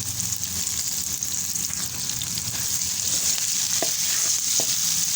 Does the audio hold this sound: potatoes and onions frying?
yes